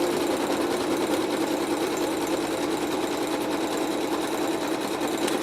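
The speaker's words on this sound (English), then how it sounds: "that's going to stitch another seam" A sewing machine stitches a seam through scrap fabric with a fast, even, continuous mechanical whir and rattle, heard close and alone.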